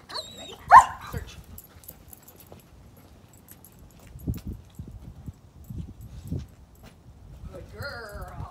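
Detection dog barking during a level one vehicle search, one sharp loud bark early, then scattered softer barks and whimpers, with a brief human voice near the end.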